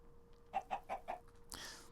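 A hen clucks in Minecraft with the Sky Factory 3 Chickens mod, four short evenly spaced clucks close up, followed by a brighter, noisier squawk at the end.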